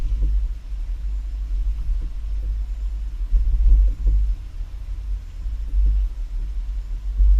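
A 2018 Acura MDX carrying a Swagman XTC2 Tilt two-bike rack rolls over speed bumps, giving a heavy, steady low rumble of road and engine noise with a few dull thumps and swells.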